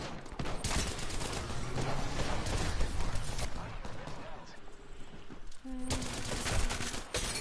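Dense, rapid gunfire in the Apex Legends battle royale shooter, loud, continuous bursts with a few distinct shots and game effects mixed in, under a player's talk.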